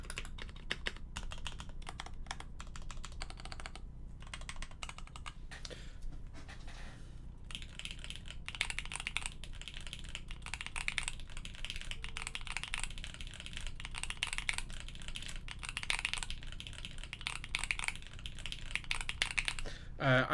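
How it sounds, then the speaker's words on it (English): Quick, light clacking of a mechanical keyboard prototype with lubed switches, a dense irregular patter of keystrokes heard close and fairly quiet against a soft background hiss. "I'm not going to do a full typing sound test"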